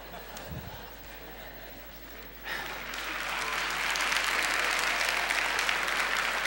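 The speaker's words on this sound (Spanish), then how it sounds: "Los únicos que aplaudieron fueron los muchachos." An audience bursts into applause, starting suddenly and swelling into sustained, dense clapping that continues to the end after a quieter stretch.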